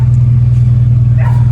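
Aftermarket Flashark header and exhaust on a car, with the pipe loose and rattling against the chassis, giving a steady loud low idle rumble nearby, with a brief higher rev lift near the end.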